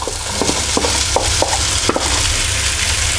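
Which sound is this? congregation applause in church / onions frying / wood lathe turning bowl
onions frying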